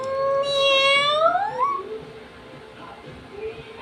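A young child imitates a cat with a single drawn-out, high, rising-then-falling meow, clear and close, followed by quiet room noise.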